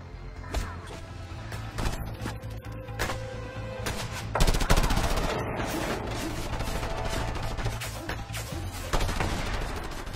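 Weapons firing in Just Cause 2 while the character hangs reeled in on a grappling hook: a long stretch of sharp, repeated shots and bursts, loud and close, with heavier blasts mixed in over a rumbling game background.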